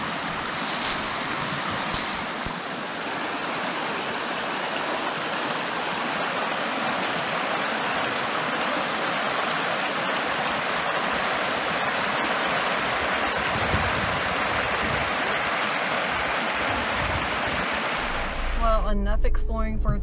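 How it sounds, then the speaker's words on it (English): A small creek spills over layered Washita rock ledges, a continuous close rushing and splashing roar that stays even for the whole stretch before a brief handling rumble at the end. "that's where little falls occur, where there was a layer of the Washita rocks that go across and connect over there"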